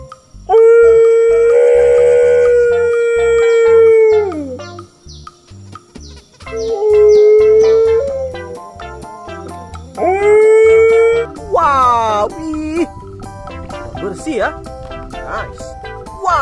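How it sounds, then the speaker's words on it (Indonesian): A dog howls in long rising and falling cries, several drawn-out howls in a row, with some yips toward the end and a voice talking over it. "Lihat ini teman. Di sini ada anjing"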